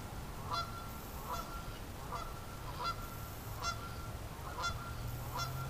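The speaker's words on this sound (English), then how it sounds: "Those geese are really going at her here." A run of honks from Canada geese repeats in a steady rhythm, faint and far off over constant background noise, with no talking.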